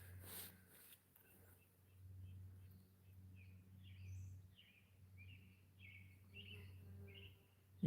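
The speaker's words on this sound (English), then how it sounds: "I don't know if you guys can hear the robins up behind me." American robins sing softly in the background outdoors, a series of short, clear warbled phrases repeating over a low steady hum, faint and distant.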